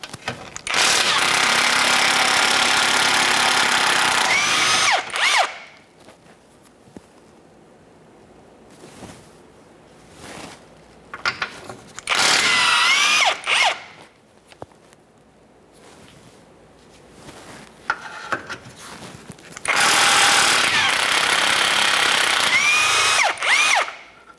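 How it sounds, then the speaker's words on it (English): A power tool with a 17mm socket spins off engine mount nuts on a 2011-2020 Toyota Sienna 3.5L V6, in three long, loud, sustained bursts with quieter clicking and ratcheting between them. "We'll use a 17mm to remove each of these mounting nuts"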